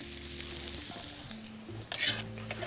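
Minced onion frying in ghee in a small pan, a steady sizzle with a low hum beneath and a brief louder hiss near the end, no talking.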